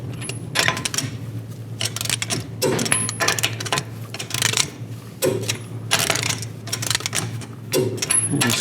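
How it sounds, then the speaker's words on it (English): A wrench tightens the rear wheel lug nuts in a star pattern on a 2008-2013 Nissan Rogue after a brake job, giving repeated close mechanical clicks and ratcheting bursts in a steady rhythm over a low hum. "Now torque the lug nuts to 80 foot-pounds in a star pattern to tighten the wheel down evenly."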